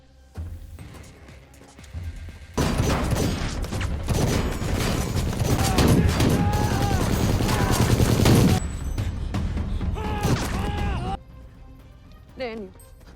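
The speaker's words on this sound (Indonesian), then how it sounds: "Daniel masih hidup dan memberondong senapan mesin ke mobil Lazar" Sustained automatic machine-gun fire in an action film, aimed at a car, a dense continuous burst of loud rattling shots lasting several seconds with mechanical clatter, partly under a narrator's voice.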